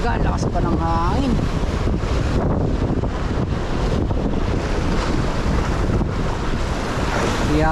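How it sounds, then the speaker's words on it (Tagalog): Strong wind buffets the microphone on a fishing boat at sea during popper fishing, with steady loud roaring gusts mixed with waves and surf throughout. "Talaga lakas pa ng hangin."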